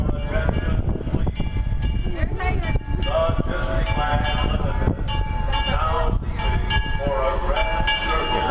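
Disneyland Railroad steam train with the number 4 engine running past at close range, a steady, loud rumble of wheels and mechanical clatter with bursts of hissing, while people talk nearby.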